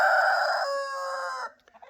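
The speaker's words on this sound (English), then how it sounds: "they crow a lot. The Wyandottes do" Wyandotte roosters crowing loudly and close by, one long drawn-out cock-a-doodle-doo lasting about a second and a half, then trailing off into a few soft clucks and bird calls.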